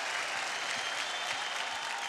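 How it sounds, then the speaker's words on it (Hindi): A television singing-competition audience claps steadily in sustained, dense applause that fills the room, with no voices over it. "ताली बजा रहा है।"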